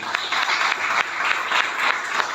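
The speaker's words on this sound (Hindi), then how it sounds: "उनके लिए एक जोरदार तालियां" Loud, steady applause from a group welcoming four new colleagues at a Sunday closing meeting, dense clapping sustained throughout without talk.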